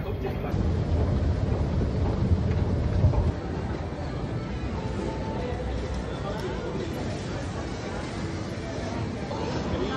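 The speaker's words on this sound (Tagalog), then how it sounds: "Ito na yatang train ko." A train pulls into a Singapore railway station on a humid early morning, its steady low rumble and rolling wheel noise filling the platform, with crowd chatter in the background.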